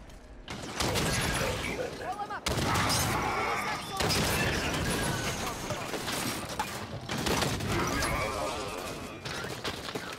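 Binary rifle from Halo 5: Guardians firing in gameplay, a charge building before sharp, crackling discharges, with dense game noise and effects filling the background throughout.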